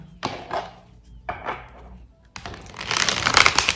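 Akashic tarot cards being shuffled by hand, with two short riffling bursts followed by a longer, louder run of rapid flapping card noise, close and without any voice.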